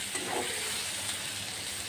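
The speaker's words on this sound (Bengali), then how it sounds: "এই যে পটল কিন্তু ভাজা হয়েছে আরেকটু ভাজবো" Pointed gourd (potol) slices frying in oil in a pan, giving a steady, close, even sizzle and hiss with no speech over it.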